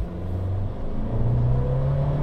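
Abarth 695 Esseesse hatchback accelerating from inside the cabin, engine drone rising in pitch with a brief gear change, loud and close, no talking.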